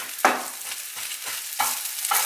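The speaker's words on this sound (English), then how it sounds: "That sizzle's a good sound." Onion sizzling in hot oil in a frying pan, with bursts of crackle as it is stirred at intervals, fairly close and with no talk.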